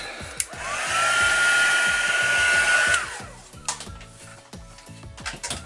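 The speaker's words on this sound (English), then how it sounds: "And then heat gun again." Heat gun blowing on a paper art tag, a loud steady whirring hiss that holds for about two seconds before winding down, followed by light clicks and tapping of the tool being set down.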